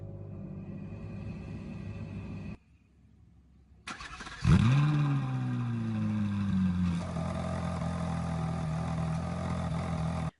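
A Ferrari LaFerrari engine cranks and fires with a sharp rising roar, then settles into a steady, loud idle rumble heard close up, after a quiet low hum and a brief lull.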